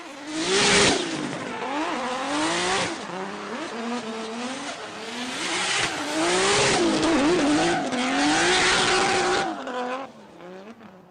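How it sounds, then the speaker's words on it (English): A drift car with an RB engine screams at high revs through a pro-am drift competition run, the pitch rising and falling as it shifts, with tires squealing and smoking through the corners. "listen to that RB sing"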